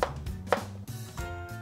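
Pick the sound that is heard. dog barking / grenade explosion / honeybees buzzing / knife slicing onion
knife slicing onion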